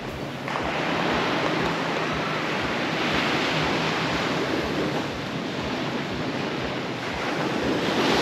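Surf washes continuously onto a beach at Pulau Pangkor, Malaysia, a broad steady roar of breaking waves mixed with wind buffeting the microphone, with no talk.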